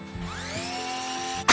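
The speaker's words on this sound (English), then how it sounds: "I'm going to drill a small hole in the center of the cover" A power drill bores a small hole in the center of a metal tin lid, a rising high-pitched whine lasting over a second, ending in a sharp burst as the bit breaks through.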